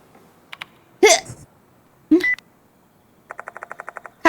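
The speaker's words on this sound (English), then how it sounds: "The sound of a phone vibrating echoes in the room." Phone vibrating in the Spirit Hunter: Death Mark II video game, a rapid string of short buzzing pulses near the end, preceded by a few clicks and two brief vocal sounds.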